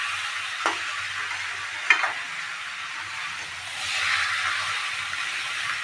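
Young jackfruit sautéed with spices in a pan: a soft, even sizzle with a couple of spatula knocks and a brief swell of frying noise midway, fairly quiet and without speech.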